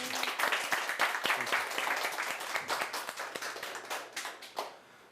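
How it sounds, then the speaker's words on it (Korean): Loud, sustained applause from a lecture audience, dense clapping that continues for several seconds before tapering off toward the end. "박수 한번 쳐야 되지 않겠어요?"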